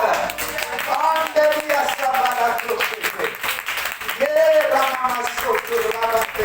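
A church congregation claps to acclaim the Lord, a dense stream of rhythmic applause mixed with voices speaking and calling out over it throughout.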